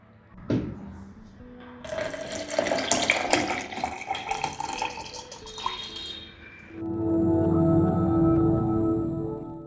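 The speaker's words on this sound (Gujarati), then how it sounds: "બધો પલ્પ પહેલાં નાખી દઈએ છીએ મોટી જારની અંદર અને પછી આપણે દૂધ નાખીશું" Cold milk poured into a large blender jar over mango pulp for homemade mango ice cream, a steady close liquid pour with splashing that turns into a sustained filling gurgle, with no talk.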